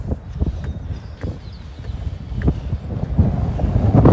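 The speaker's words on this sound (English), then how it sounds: "It's very breezy, as you'll see." Breezy coastal wind buffets the microphone near San Francisco Bay, a loud low rumble that swells and gusts throughout with no speech.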